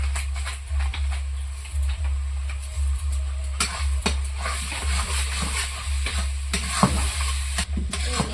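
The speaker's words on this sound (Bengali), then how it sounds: "মশলাটা কষানো কমপ্লিট" A spice paste of coriander and cumin powder, tomato, poppy seed and cashew with chili powder is sautéed for potato curry. It sizzles steadily while a spatula stirs and scrapes in rhythmic strokes over a low constant hum, close and loud, with no voices.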